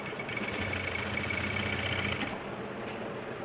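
A sewing machine runs a fast, steady stitch along an Afghani salwar, a close mechanical whirr with rapid rhythmic knocking that slows and stops near the end.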